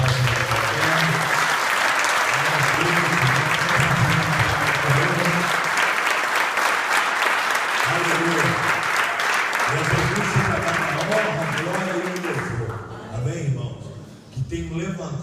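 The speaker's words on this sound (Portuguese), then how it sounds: "Aplauda Jesus pela vida do apóstolo." Church congregation applauding loudly and steadily for about twelve seconds, with a voice speaking or singing over the clapping throughout, before the applause thins out near the end.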